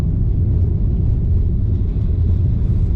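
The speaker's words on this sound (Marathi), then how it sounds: "हे पहा अचानक गाडी येते" A continuous low rumble of a car engine and tyres on a mountain ghat road holds steady and close, with no talking over it.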